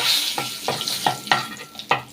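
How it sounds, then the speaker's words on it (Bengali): Bay leaves dropped into hot oil while cooking a thin hilsa fish curry, with a steady low sizzle and several soft clinks of a spoon against the pan at irregular intervals, close by and with no voices. "তেল গরম হয়ে গেছে, এখন তেলে দিয়ে দিব তেজপাতা।"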